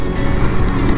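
Royal Enfield GT 650 motorcycle being ridden near Pune, giving a steady, close roar of engine and wind rumble that holds throughout the short stretch without a break.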